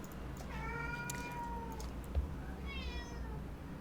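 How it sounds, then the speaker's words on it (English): A cat meows twice, with a long drawn-out call followed by a shorter, higher one, close by and clear over a steady low room hum. "I think the cat may be asking for a close-up"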